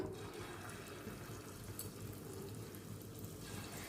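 Small balls of bonda batter fry in hot oil with a dense, steady sizzle and bubbling that stays even throughout and sounds close. No voices are heard.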